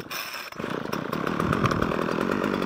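A Ryobi petrol strimmer's small two-stroke engine runs close by, dipping briefly and then settling into a loud, steady high-pitched buzzing drone that holds right to the end.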